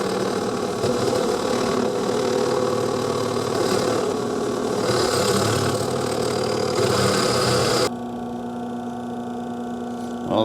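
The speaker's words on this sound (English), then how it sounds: "now we're gonna drill a hole in this so that the rod can actually go through it" A drill bores a hole through steel to fabricate a baler jack handle. Its loud, steady motor drone runs for about eight seconds, then drops abruptly to a quieter hum.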